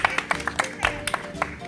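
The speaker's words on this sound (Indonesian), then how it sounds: "tepuk tangan" A small group claps hands in a short, uneven burst of sharp slaps, fairly close, with voices and chatter mixed in, at the end of a warm-up games session for deaf children.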